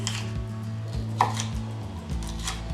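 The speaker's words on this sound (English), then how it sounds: "Now we're going to do some bigger slice." A kitchen knife slices a cucumber into bigger slices on a cutting board, giving a run of roughly six evenly spaced, close, crisp chops with faint sizzle-like hiss between them.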